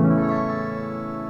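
A bright, sustained chord rings out from a single stroke across the string sensors of an electronic autoharp, with many steady harmonics decaying slowly over about a second, no talking.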